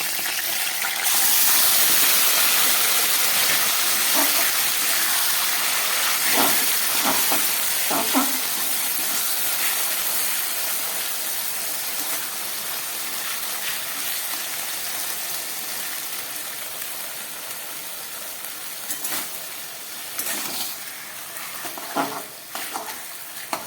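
Boiled taro leaves go into a pan with grated coconut and chopped green chillies and are stirred, giving a steady sizzle with scraping strokes throughout and a few sharper clatters; a voice speaks briefly.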